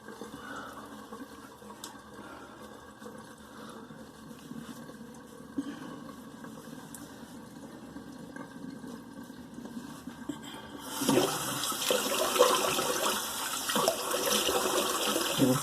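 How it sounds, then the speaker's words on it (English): Water trickles and gurgles close by, then swells into a louder rushing flow as a sink drains, with no talking. "let that water out of the sink"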